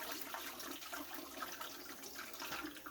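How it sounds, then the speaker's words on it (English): Water pouring steadily into a pressure canner holding pint jars, a soft continuous splashing trickle, faint and unbroken with no voices. "so I'm going to add some more water"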